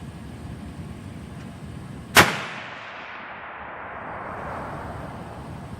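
A single sharp rifle shot fired while zeroing an ATN X-Sight HD 5x18 scope, loud and close, with a long decaying echo rolling away afterward over steady outdoor background noise.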